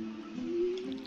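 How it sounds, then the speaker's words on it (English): A sunflower seed being watered in Stardew Valley gives a soft, brief splash and trickle lasting about a second. It sounds quiet and steady over a low hum. "let's go ahead and water our new sunflower seed"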